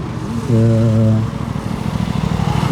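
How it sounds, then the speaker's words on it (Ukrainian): A Yamaha MT-07 motorcycle runs a gymkhana course at the MGKC 2024 competition, giving a short, loud engine rev up close, then fading to a low rumble. "Дивимося, як їде Юра"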